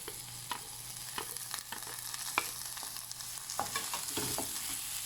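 Garlic sautés in a pan for Filipino pinakbet with a soft, constant sizzle, broken by repeated faint scraping taps of stirring.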